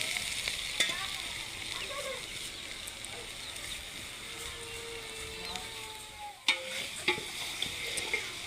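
Okra, chilies and onion stirred together in a cooking pot give a soft ongoing sizzle, with a few clanks and scrapes of the utensil near the end and faint voices in the background.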